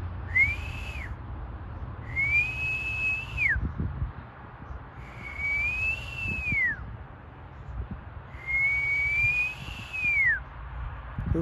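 A person whistles four times, each a rising-then-falling tone with a clear pause between, over quiet outdoor background noise.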